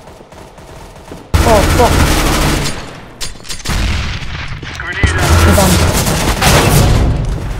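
Counter-Strike GO gameplay: a sudden grenade blast booms, followed by rapid bursts of gunfire that keep going, with a player swearing briefly over the noise.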